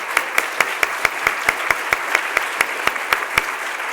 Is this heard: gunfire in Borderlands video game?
no